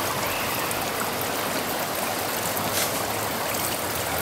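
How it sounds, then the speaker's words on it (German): Water splashes and streams continuously at a small children's water park at a hotel in Turkey, a dense, steady rushing close by with no pauses. "Hier extra für die Kinder, Kleinkinder, einen kleinen Wasserpark."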